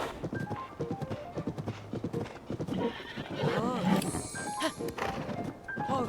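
Horse in the Zelda: Tears of the Kingdom video game clip-clops steadily, then gives a loud rising whinny and snorts, all close and clear over ongoing game ambience.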